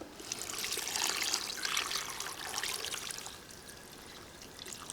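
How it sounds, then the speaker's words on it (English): Lukewarm water pours steadily into salty pickle brine in a kitchen, a close trickling, splashing stream that swells and then eases toward the end, with no talk. "We added about 5 more cups of water"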